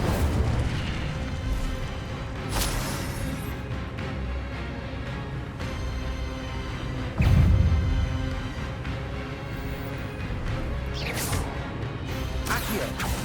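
Incendio fire spell blasts in the Hogwarts Legacy video game, set in a mysterious cave, with a heavy booming burst near the middle and other crackling impacts amid dense game effects and ambience.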